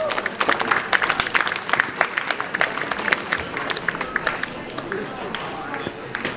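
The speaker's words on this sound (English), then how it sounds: "Please give them a huge round of applause as well." Crowd applause at a water polo club gathering after an under-17 Accorsi Cup match, honouring managers, selectors and staff: steady, dense clapping from many hands sustained throughout, fairly close, with faint voices mixed in.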